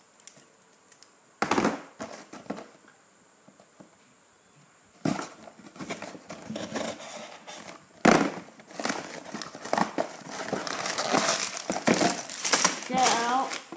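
A Star Wars battle pack box is cut open with scissors and unpacked. Crinkling cardboard and plastic rustles and snips come in bursts, with sharp crackling peaks and busier handling toward the end.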